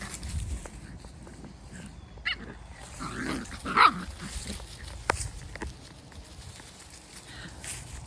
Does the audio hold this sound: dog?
yes